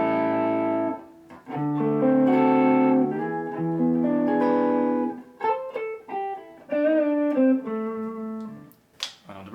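A PRS SE Custom 24 electric guitar played on its neck humbucker, set 4 mm low, in a continuous phrase of held chords and single notes with a warm, clean-leaning tone and some effect coloring, heard alone.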